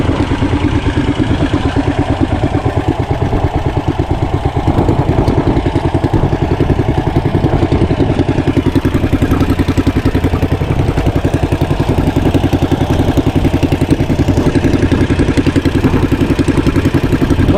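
A homemade engine-powered vehicle with a motorcycle-like engine running at a steady idle, a loud, close, continuous rapid chugging rattle with a mechanical clatter that stays even throughout.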